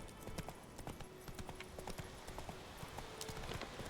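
Steady clip-clop of hooves from Geralt's horse Roach trotting in The Witcher 3, a continuous rhythmic run of hoofbeats at moderate distance with game ambience underneath and no talk.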